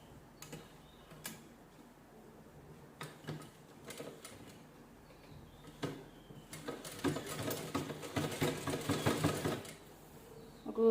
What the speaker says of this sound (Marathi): ह्याच्यावर शिलाई करून घेऊया आपण.